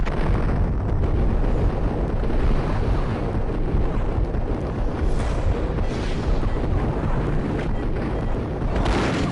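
Grenade blasts in the Max Payne video game form a dense, continuous rumbling roar of explosions lasting about nine seconds, loud and heavy in the low end, with no distinct gaps and no voices over it.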